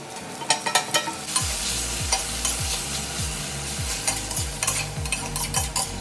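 Onions browning with ginger garlic paste and tomato sizzle loudly in a pan, with a steady hiss over regular rhythmic scraping strokes of a spoon stirring close by; nobody talks.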